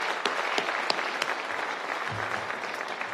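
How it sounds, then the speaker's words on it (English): An audience at a winter sports awards ceremony applauds a state champion with steady, full clapping from a crowd, sustained throughout with a few sharper claps standing out. "give Armani a round of applause, please"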